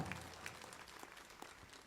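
Applause from an audience at a Patidar community gathering honouring Lalji Patel, light and patchy with a few scattered claps, fairly quiet and brief.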